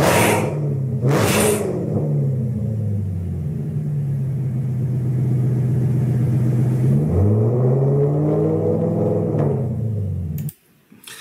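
A BMW car engine revs up and settles twice, with rising and falling whirring rumbles over a steady low drone that cut off abruptly near the end.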